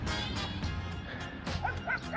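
A dog barks and yips a few times near a beach campsite beside a running track, short sharp calls standing out over steady outdoor background noise.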